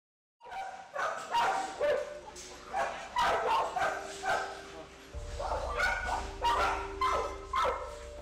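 Several rescued dogs from an abused dog-fighting case bark and yip repeatedly in quick bursts at a temporary shelter, close by, with occasional whimpers between the barks.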